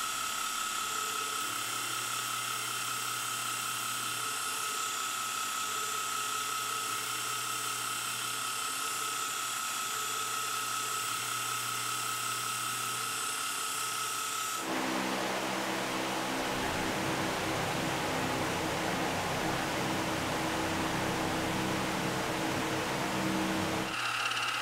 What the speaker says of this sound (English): I'm just cutting a half inch diameter hole with a flat bottom here now